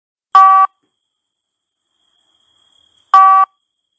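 A device gives two identical short electronic beeps, each a bright tone lasting about a third of a second and spaced nearly three seconds apart, with near-silence between them.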